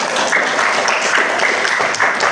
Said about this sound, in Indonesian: Ya, kita kasih tepuk tangan ya.